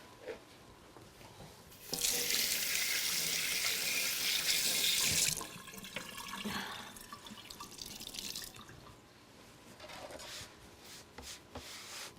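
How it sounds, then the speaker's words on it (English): Tap water runs loudly into a kitchen sink for a few seconds while hands are washed, then eases into softer splashing and dripping with faint rubbing, all without talk. "And now I have to clean the decks and wash my hands."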